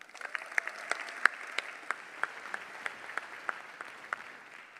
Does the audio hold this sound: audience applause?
yes